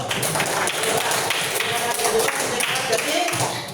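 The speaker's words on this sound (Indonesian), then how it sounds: "Tepuk tangan adik itu." A group of children clap for a classmate in a classroom, a dense steady patter of hand claps close by with talk mixed in throughout.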